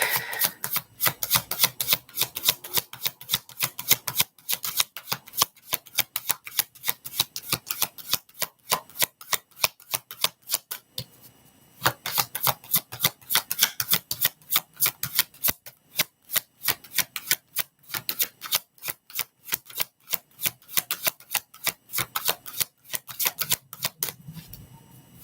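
Cards are shuffled over and over in quick, crisp riffling bursts, close by, with brief pauses between rounds and no talking.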